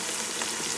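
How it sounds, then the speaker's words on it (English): Food frying in a pan for a Rivers State cocoyam fisherman's seafood soup, a steady close crackling sizzle throughout with no pauses. "So while this is frying"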